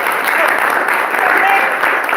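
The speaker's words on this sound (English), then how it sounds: "Round of applause." An audience at a filmmakers' meetup with a panel discussion claps loudly in a short, dense burst of applause that stays even for its whole length, with voices mixed in.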